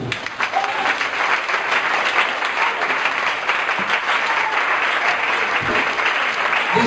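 A church congregation applauds steadily and loudly, dense sustained clapping mixed with crowd noise that carries on without a break.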